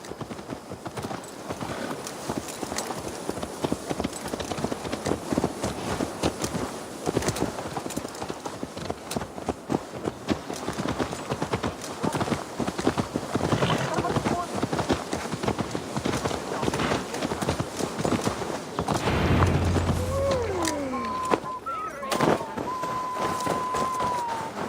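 Horse hooves clip-clop steadily at a walk in Assassin's Creed Valhalla, a close rhythmic clatter running throughout, with faint voices now and then and a brief thud near the end.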